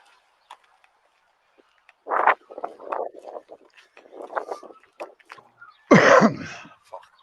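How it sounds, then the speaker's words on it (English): Cough bursts from a person, a short cluster near two seconds and a loud harsh cough around six seconds, close to the mic with faint murmurs between. "Sorry about coughing in your ear"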